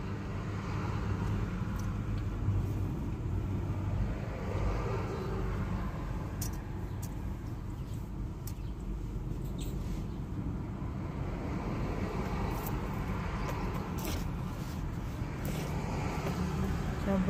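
Steady low rumble of heavy road traffic heard from inside a car on the way to a school, a continuous engine and road drone with wind noise and no distinct honks.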